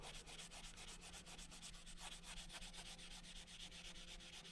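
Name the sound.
sanding Mercedes W124 interior trim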